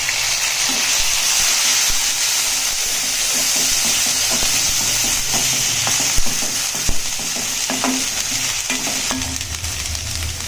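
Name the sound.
onions frying with ginger garlic paste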